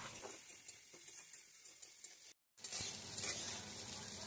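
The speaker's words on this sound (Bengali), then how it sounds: "পাঁচফোড়ন দিয়ে একটু হলুদ লবণ দিয়ে আমরা সুন্দর করে বেগুন ভাজা মতো করে নিব" Brinjal slices fry in hot oil with panch phoron, turmeric and salt, giving a steady close sizzle with light stirring scrapes and a brief dropout midway; nobody speaks.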